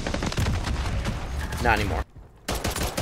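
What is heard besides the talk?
CoR-45 pistol gunfire in Call of Duty video game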